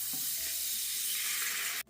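Sugar syrup hitting hot flour and semolina being browned for traditional halva, a loud continuous sizzle and crackle lasting almost two seconds before cutting off abruptly.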